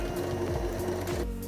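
A sewing machine runs steadily as it stitches across fabric right sides together while making a circle bag, its motor humming with a rapid mechanical chatter of the needle, close and continuous with no talk.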